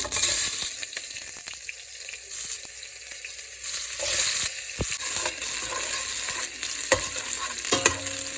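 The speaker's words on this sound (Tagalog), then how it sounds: "magisa tayo ng sibuyas muna" Onions sauté in a hot pan with chorizo and lamb, giving a continuous bright sizzle broken by the scrape and clack of stirring, close and fairly loud throughout.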